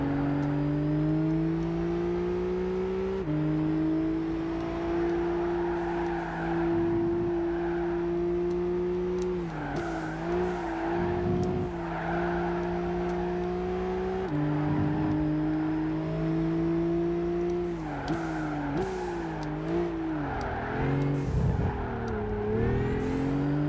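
A racing car engine in the video game Gran Turismo 5 drones loudly and steadily through a final lap, pitch dipping and climbing as it brakes, shifts and accelerates again, with no talk over it.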